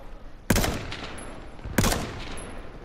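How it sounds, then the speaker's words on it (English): Two loud, close gunshots in the H1Z1 battle royale video game, sharp blasts about 1.3 seconds apart, each with a short decaying echo, and no talking. "Oh, I'm getting shot at."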